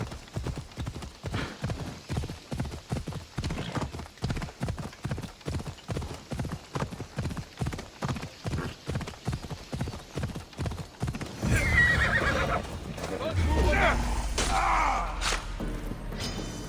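A horse gallops in Assassin's Creed Odyssey with heavy, rhythmic hoofbeats close by, then a rougher, louder stretch of movement and snorting near the end, with no talk.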